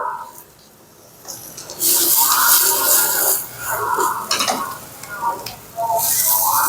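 Eggplant, onion, chili and zucchini stir-frying in a hot pan with loud, steady sizzling, broken by scraping stirs and brief quieter pauses.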